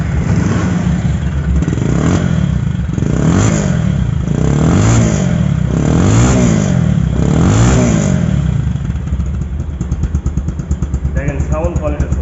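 A Pulsar double disc ABS motorcycle engine is revved close up, rising and falling in about five repeated throttle blips over a loud, steady idle. It then settles into a rough, pulsing idle.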